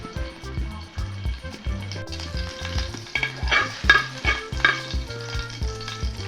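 Urad dal fries in coconut oil for a Kerala kanthari kappa recipe, with a soft, close sizzle and occasional stirring scrapes over a low, rhythmic tonal background.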